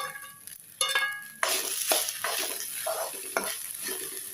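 Pulao ingredients fry in a pan while a spoon stirs them, giving sharp scraping clatters over a rising sizzle. The sounds come in bursts, close and fairly loud.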